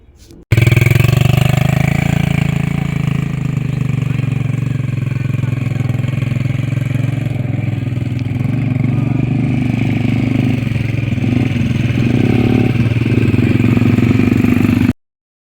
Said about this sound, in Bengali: সো গেস আমি এখন বিচ বাইক রাইড করতেছি